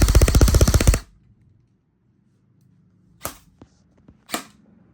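An SRC Falcon ZS airsoft gun fires a loud, rapid buzzing burst of shots up close, then after a quiet pause two single sharp pops with faint mechanical clicks between.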